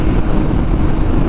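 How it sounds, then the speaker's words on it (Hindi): Wind buffets the microphone outdoors in a steady, loud low rumble, continuous and unbroken, with no speech over it. "क्या मस्त हवा चल रहा है"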